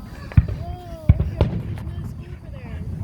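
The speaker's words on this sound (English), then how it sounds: "You guys see the fireworks about over there too?" Fireworks bursting near a dog park, a few sharp loud bangs spaced irregularly, with whistling crackles and voices talking in the background.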